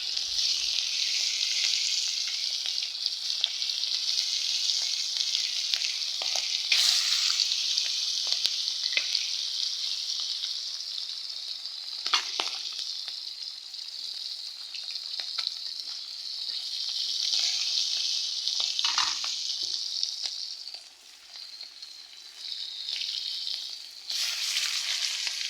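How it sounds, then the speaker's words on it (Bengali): Hilsa fish frying in hot oil, a steady, loud sizzle that crackles and spits continuously, with brief surges and a short dip, no talking over it. "এখন আমি ইলিশ মাছ ভাজবো।"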